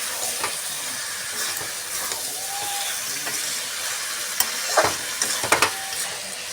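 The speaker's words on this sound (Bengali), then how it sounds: "সেদ্ধ করা এঁচোড়টা আমি দিয়ে আবার ভালো করে কষাবো।" Boiled jackfruit and chicken mince sauté in a hot pan, with a continuous sizzle and hiss broken by louder stirring scrapes and clatters near the end.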